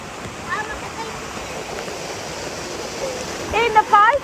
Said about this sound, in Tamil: இந்த ஃபால்ஸு ஆர்டிஃபிஷியல் ஃபால்ஸ் ஆனால் சூப்பராக இருந்துச்சு